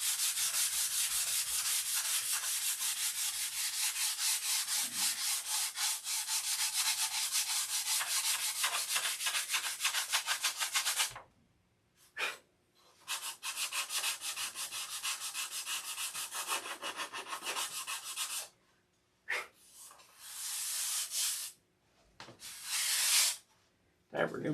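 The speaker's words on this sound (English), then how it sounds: "Time for a new piece of sandpaper." Wood is sanded by hand with sandpaper in long continuous rasping strokes, loud and close, then broken into shorter bursts separated by pauses near the end.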